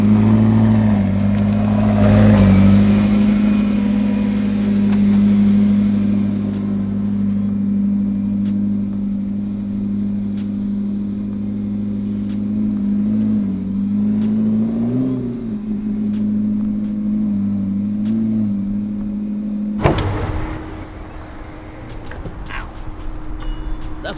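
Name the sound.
car engines as cars are moved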